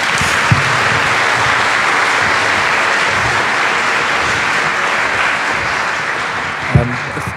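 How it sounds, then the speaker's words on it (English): An audience at a lecture panel on ancient Persia claps steadily for the panelists, a continuous wash of applause throughout that fades slightly near the end. "please give some applause for our panelists today"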